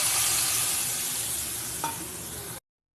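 Spice paste sizzling in hot oil with whole cumin and asafoetida, a loud, dense frying hiss with a brief stirring scrape partway, then a sudden cut to silence near the end.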